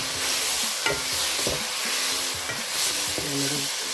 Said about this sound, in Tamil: ஒரு நிமிஷம் வதக்குவோம். கொஞ்சம் வதங்கி வந்துட்டு இதில் தூள் போடுவோம்.